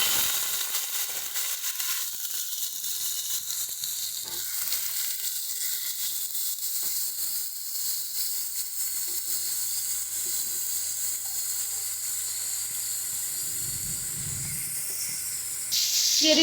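Prawns hit hot oil in a wok and sizzle with a loud, steady hiss that lasts throughout, with no talking.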